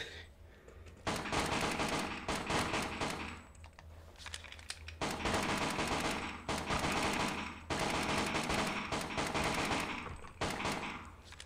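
Gunfire in the VR shooter game Death Horizon Reloaded, long rapid bursts of automatic shots separated by brief pauses, loud and close.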